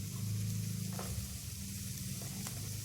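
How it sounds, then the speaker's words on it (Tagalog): Minced garlic hits a hot frying pan among sweating vegetables for a coconut-milk vegetable dish, giving a steady, close sizzle with a low hum beneath it and a few light stirring scrapes, no talking. "now let's add our garlic"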